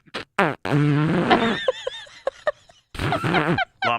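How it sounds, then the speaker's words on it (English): A long, loud, sputtering fart rumbles up close, followed by shorter squeaky bursts and a final stuttering blast after a pause. "I'm getting calls from everybody that was the best fart"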